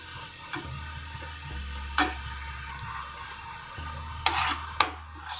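Spices such as coriander powder and garam masala stirred and cooking in a pan for a yam curry, with a soft steady sizzle and a few light scrapes and clicks of the spoon against the pan.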